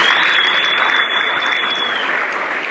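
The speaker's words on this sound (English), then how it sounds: "So if we can please have a round of applause for everyone for making it here." Crowd at an aero club gathering at Middelburg Airfield clapping together, a loud, close, sustained patter of many hands with a faint tonal whine running through it.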